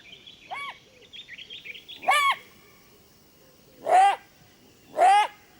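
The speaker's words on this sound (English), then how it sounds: "The jackal's barks mean that large predators are on the prowl." A jackal in the Botswana wilderness gives sharp, high yelping barks: a short call, then three louder barks spaced about one to two seconds apart, clear against quiet surroundings.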